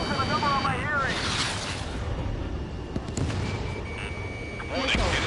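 Heavy artillery fire in the combat flight game Ace Combat 7, a continuous rumbling barrage of booms and blasts under radio chatter and voices, loud and dense throughout.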